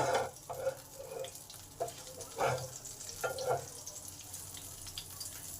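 Oil sizzles in a pan with green chillies, nigella seeds and a bay leaf while a spoon stirs, making intermittent scraping bursts over a soft frying hiss close by.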